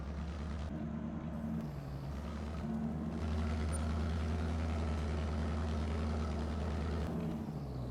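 A V8 tractor engine in Farming Simulator 22 drones low and steady, its pitch stepping up and down as gears shift, fairly quiet and continuous with no voices.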